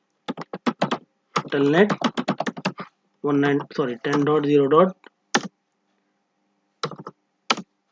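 Close computer keyboard typing comes in quick bursts of sharp key clicks, entering a telnet command during router setup. Someone speaks between the bursts, and a few isolated clicks follow near the end.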